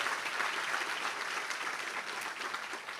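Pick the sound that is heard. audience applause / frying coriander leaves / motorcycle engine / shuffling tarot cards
audience applause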